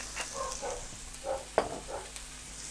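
Spring onion and broccoli frying in a pan: a soft, steady sizzle with occasional stirring scrapes and one sharp clack, fairly quiet and with no talking.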